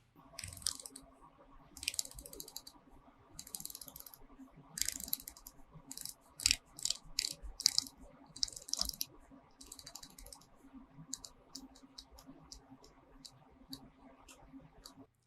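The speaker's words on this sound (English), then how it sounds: "The bezel action feels solid and user-friendly. The grip is easy to grab, the clicks are positive" A Seiko Prospex Sea 1968 diver watch (HBC002) has its bezel turned, giving a run of crisp, close, quiet clicks in quick bursts, then sparser single clicks toward the end.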